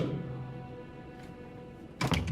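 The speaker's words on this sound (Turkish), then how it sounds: "Ama kapıyı geri kapattı." A door shut in a Five Nights at Freddy's film, a single muffled thunk near the end after a quiet stretch of low room tone.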